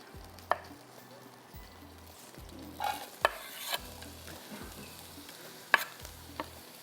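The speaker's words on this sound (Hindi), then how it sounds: "मसाला इसका बनेगा और इसमें जाएगा पहले प्याज।" Chopped onion stirs and sizzles in hot oil for a masala, a steady soft frying hiss broken by repeated low scraping strokes and a few sharp clicks of the spoon against the pan, close up with no talk.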